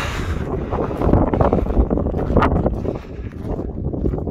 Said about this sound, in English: with the wind being quite strong